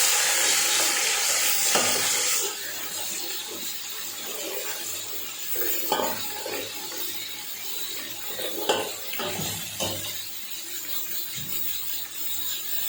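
Crushed garlic fries with browned onions in a pan for beef nihari, a steady close sizzle with occasional scraping stirs and clinks, loudest in the first couple of seconds, no talk.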